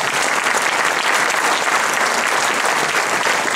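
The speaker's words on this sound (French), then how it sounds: "Vous pouvez les applaudir" A crowd at a political speech claps loudly and continuously, many hands merging into a full, even wash of applause with no break.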